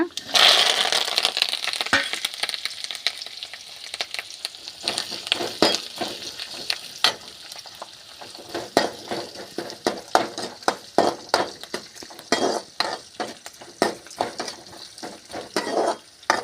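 Onion, green chili and curry leaves fry in oil in a pan with a loud, continuous sizzle and frequent scraping stirs, while a voice talks over the cooking.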